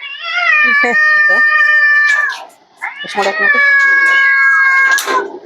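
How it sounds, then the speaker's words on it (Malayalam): A kitten meows loudly and close by, two long, drawn-out cries with a short pause between them. "പൂച്ച ഭയങ്കരമായിട്ട് കരയുന്നത്"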